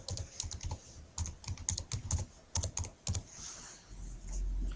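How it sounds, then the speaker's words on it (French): Rapid close-up typing on a computer keyboard, a steady patter of key clicks for several seconds before stopping, no talk. "je vais effacer le texte qui est au centre et je vais taper introduction"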